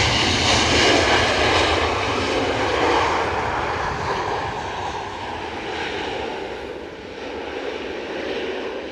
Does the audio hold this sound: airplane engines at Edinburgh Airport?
yes